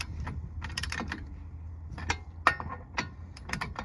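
Lug nuts on a Crown Vic P71 wheel are snugged in a star pattern with a ratchet, giving close, irregular bursts of sharp mechanical clicks and rattles separated by brief pauses.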